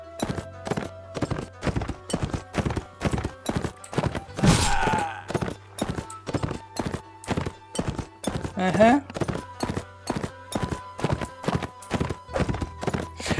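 A horse gallops in Mount and Blade Warband, fast rhythmic hoofbeats pounding steadily throughout, with a couple of loud neighs and whinnies cutting in and a brief spoken murmur.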